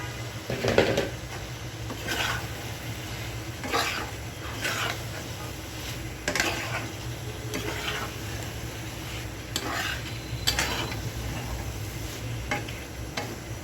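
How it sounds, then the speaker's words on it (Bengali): Chopped stalks, potatoes and tomatoes are tipped into a pan of hot oil used for tengra fish and stirred, giving a steady close sizzle broken by repeated scraping strokes of a spatula every second or two. "এখন আমি ডাটা আলু এবং টমেটো কেটে রাখা একসাথে দিয়ে দিচ্ছি"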